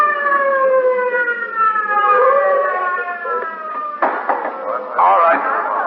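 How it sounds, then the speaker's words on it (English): A police car siren wails wide open, its rising and falling tones sweeping loudly through the whole stretch, with a burst of crowd-like noise and clatter joining in near the end. "was driven to the scene of the occurrence with siren wide open"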